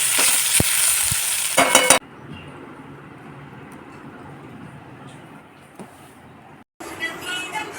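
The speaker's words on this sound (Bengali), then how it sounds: "আস্তে আস্তে কমিয়ে কমিয়ে বেশ ভালো করে ভাজবো" Vegetables for Bengali shukto frying slowly in a pan over lowered heat, a steady low sizzle punctuated by louder bursts of stirring and clinking at the start and end.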